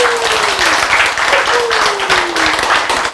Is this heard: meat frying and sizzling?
no